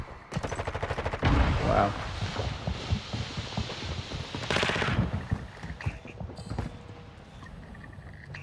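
Gunfire in Call of Duty multiplayer on the Ashika map, with rapid bursts and scattered shots through the scene, plus game announcer lines and a player's brief exclamation over it.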